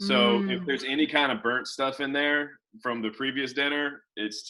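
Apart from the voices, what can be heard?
No distinct noise like a dog, phone or traffic.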